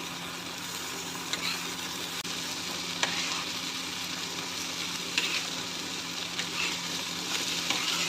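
Punarnava wild greens cooking in a pan as rock salt is mixed in, a soft continuous sizzle with faint occasional stirring scrapes, fairly quiet and without voices.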